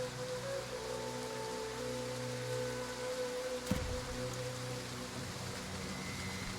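Steady rain in the video game These Doomed Isles, an even hiss of falling water at moderate level throughout, with a low tonal hum beneath and one short sharp thump partway through.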